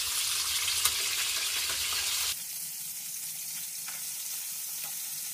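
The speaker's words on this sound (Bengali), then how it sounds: "তারপর আলুগুলো ভেজে নেব।" Potatoes frying in a pan in a home kitchen after hilsa fish, a loud steady oil sizzle for the first two seconds that drops to a softer, quieter frying hiss.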